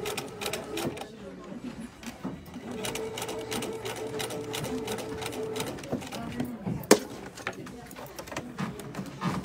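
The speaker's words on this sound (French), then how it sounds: "Vous piquez à 1 cm du bord." A sewing machine stitches fabric for a pencil case, its rapid mechanical clatter running steadily at close range with brief pauses and a sharp click near the end, while someone speaks French over it.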